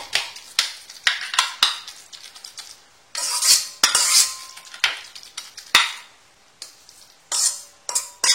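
Pasta salad with mixed diced vegetables being pressed and packed into a mold with a utensil, giving a run of close, sharp clinks and scrapes in irregular bursts, with no voices.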